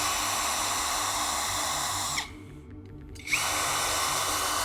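A power drill bolts down hardware during a UFO-themed build, running loud and steady, dropping out for about a second mid-clip and then resuming at full whine.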